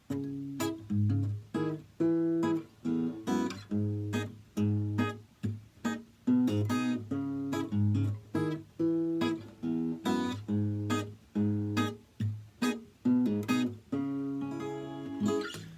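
A guitar plays a bouncy reggae pattern, bass line and chords together, low bass notes alternating with short choppy chord stabs in a steady groove, close and unaccompanied.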